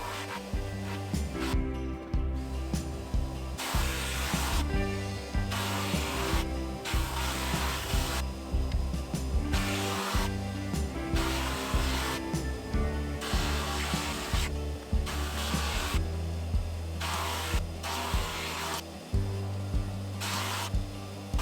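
Steady whirring power-sander drone sanding a wooden bowl, running in repeated bursts with brief pauses, gritty abrasive hiss riding over a low motor hum, close and loud.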